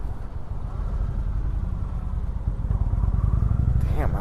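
A 2019 Indian motorcycle at a dealership demo ride, its engine rumbling at a steady low idle up close, then picking up into a slightly stronger throttle blip toward the end, with a voice briefly audible.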